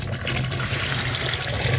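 Food being washed under running water, with a steady, close gush of water splashing into a sink.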